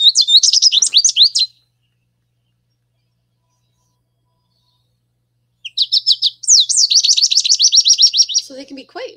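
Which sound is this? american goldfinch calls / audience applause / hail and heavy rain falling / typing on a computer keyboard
american goldfinch calls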